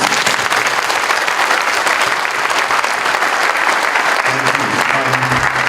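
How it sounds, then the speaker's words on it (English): An audience at an international coffee conference applauds its speakers with loud, sustained clapping that stays even throughout, a voice starting to speak near the end. "please give a round of applause, a very warm one for my speakers"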